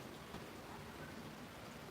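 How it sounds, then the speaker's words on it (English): Rain falls steadily outdoors, a soft, even broadband hiss with no distinct drops standing out, fairly faint and constant throughout. "Yep, it's raining."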